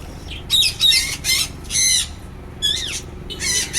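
Birds in an aviary in the Maldives give loud, harsh squawks in several short bursts close by, with no talking.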